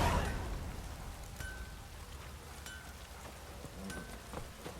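Steady rain falls in The Witcher 3, a soft continuous hiss of drops on surfaces with a few faint chimes above it, heard alone.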